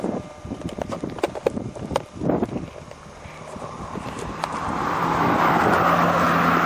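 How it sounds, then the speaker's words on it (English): A KTM RC8 motorcycle on a test ride across North Wales roads: rapid engine pulses and clicks at first, then rising, steady wind roar and engine drone building as speed increases. "this is a real live test ride of the KTM RC8"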